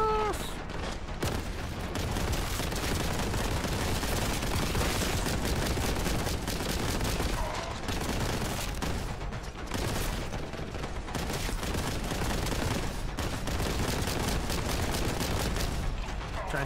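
Sustained gunfire from Warhammer 40,000: Boltgun pours toward the player, a dense, continuous barrage of shots and booms that runs unbroken for the whole stretch at high, steady loudness.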